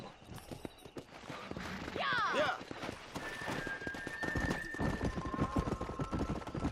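Galloping horse hooves in the Red Dead Redemption video game, a rapid drumming clip-clop that builds and stays steady alongside a brief whinny, with someone speaking a short word over it.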